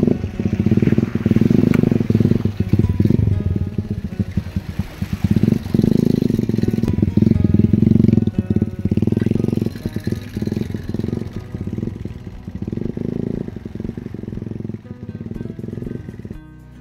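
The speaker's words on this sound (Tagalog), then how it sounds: "Takot sa tunog ng makina." A motorcycle engine runs steadily and loud for the whole stretch, near the rider, with rumbling low revs and some rattle, on a trip to Binuagan River in Bataan; no talk over it.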